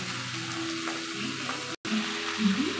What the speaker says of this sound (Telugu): మొత్తం శనగపప్పు అనేది ఆయిల్లో బాగా ఫ్రై అవ్వాలి